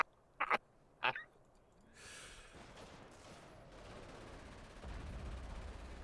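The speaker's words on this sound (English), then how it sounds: "I hear artillery firing" Artillery fire in a real-time strategy game: two sharp, distant-sounding booms in quick succession, followed by a low rumble and rising background noise.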